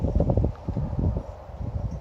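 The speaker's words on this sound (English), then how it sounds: "very windy again" Gusty wind buffets the microphone outdoors in a cemetery, producing low rumbling bursts that rise and fall over a couple of seconds.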